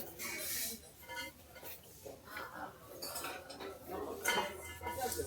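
Plates and cookware clink and clatter in a shop with light, repeated ringing knocks of dishes, and a voice talks faintly in the background.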